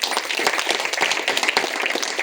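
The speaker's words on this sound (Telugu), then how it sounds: "గట్టిగా చప్పట్లు కొడతాం ప్రతిసారి" A lecture audience applauds a speaker, many hands clapping in a dense, steady, fairly loud stream with no voices over it.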